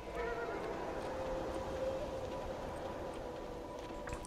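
A horse whinnies in the game Beyond: Two Souls, a drawn-out neigh over steady background ambience with faint hoof clops.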